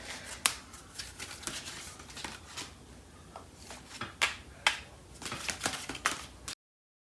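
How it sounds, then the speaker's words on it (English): Tarot cards from a Fairy Tarot deck being shuffled and drawn, giving a run of soft, crisp papery flicks and snaps, close and fairly quiet, with no talking. "I'm going to pull out a card from the Fairy Tarot deck for more messages"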